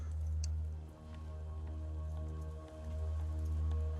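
Steady rain pours down in the base defence video game Cataclismo, a continuous patter of drops over a low, sustained game music drone, with no talking.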